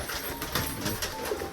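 Domestic pigeons released indoors during rain coo in soft, repeated pulses against a steady broadband hiss, the calls close and moderately loud.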